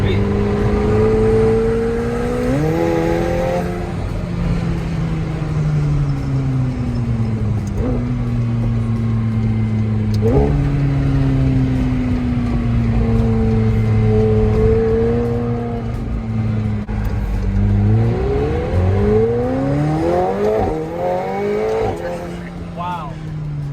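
A McLaren sports car with a turbocharged engine launches hard, its engine note climbing through rising revs with shifts and a deep roar close inside the cabin, while people talk and exclaim over it.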